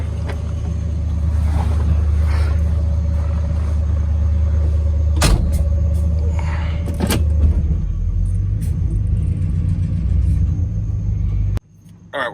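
Ghostbusters Ecto-1 replica car driving along, a steady low engine rumble and road noise running unbroken throughout, with a couple of brief knocks or clunks midway and a sudden drop near the end.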